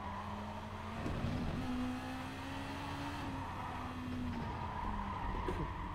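A race car in Gran Turismo Sport skids with long, sustained tire squeals over a steady engine drone, the squeal rising and breaking off several times, with no voices.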